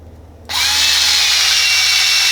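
A power drill starts up and runs steadily, driving screws into a wooden sanding block, a loud, close, high whine that holds at an even pitch after a sudden onset.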